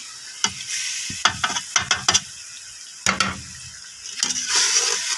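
Spices being added and stirred into a pan of frying garlic, ginger, tomato and green chili paste, with several sharp clanks of a spoon against the pan over a steady sizzle.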